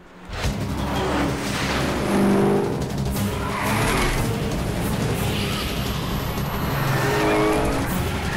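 A car pulls away with tires skidding and squealing in an action film scene, a loud, continuous rush of engine and road noise filling the whole stretch.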